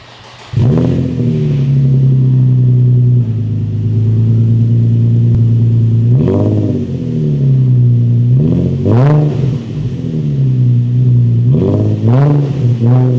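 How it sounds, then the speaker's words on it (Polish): Nissan 350Z sports car engine cranking and catching, then settling into a steady idle before several sharp throttle blips rise and fall near the microphone, with no talk. "Auto chodzi, śmiga, zaraz odpalę, pokażę Wam jak pracuje"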